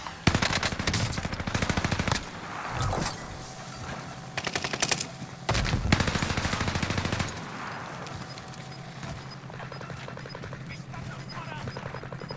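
Rapid automatic gunfire crackles through a Call of Duty Warzone match, long loud bursts broken by short pauses, with the rest of the clip settling into quieter game ambience.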